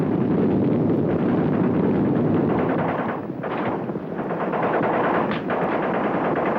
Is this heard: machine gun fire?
yes